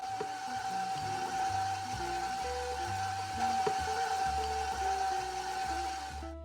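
A stand mixer beats red velvet pound cake batter with a steady continuous whir and a faint high whine, with low clunks and knocks shifting throughout as the beaters work the mixture.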